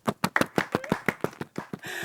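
Crisp isolated claps sound as an applause sound effect at an Indonesian talk-show event, about a dozen sharp hand slaps in a quick irregular rhythm over two seconds, close and fairly loud, ending in a short tonal tail.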